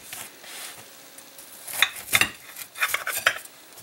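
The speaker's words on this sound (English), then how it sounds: "let's just cut this open and see how it is to have ourselves a slice of cookie" A giant butterscotch chip chocolate cookie, slightly burnt on top, is cut open with a knife, giving a few brief crisp scraping and crunching bursts against a pan, close and otherwise quiet.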